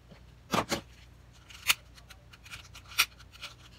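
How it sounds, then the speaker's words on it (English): Scissors make several crisp, close snips while trimming the ends of a small craft ribbon bow, with quiet pauses between the cuts. "Just trim out the ends and burn our ribbon."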